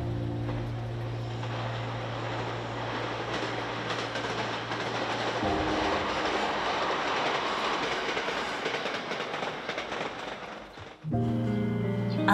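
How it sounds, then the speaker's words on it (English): A train in Iwate and Aomori, Japan, heading to the coast, rumbles steadily along the rails, a loud continuous roar with rattling wheels that swells in the middle, then cuts abruptly near the end. "The train heads back to the coast."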